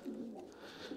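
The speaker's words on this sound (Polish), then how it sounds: "zapraszam Was do gołębnika gołębi lotowych" Soft, low cooing of racing pigeons inside a pigeon loft, a murmuring burble that runs steadily at close range with no talk over it.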